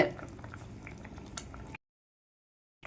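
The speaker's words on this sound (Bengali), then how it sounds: "দেখো ঝোলটা ফুটে উঠেছে" Curry broth with taro bubbling in a pot gives a soft, dense bubbling close by, which cuts off into silence and then returns briefly at the end.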